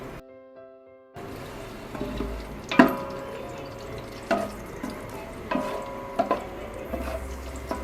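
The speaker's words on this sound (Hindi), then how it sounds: "1 प्याज लिया है हमने बड़े साइज का, इसको हल्का ब्राउन करेंगे।" A large onion frying in ghee for a chicken vegetable macaroni, stirred with sharp utensil scrapes and clinks against the pan over a soft, steady sizzle, with no talking.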